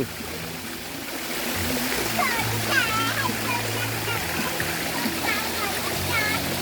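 Rushing waterfall at a water park in Buriram, Thailand, a steady wash of splashing water throughout while children and adults chatter nearby and someone talks over it.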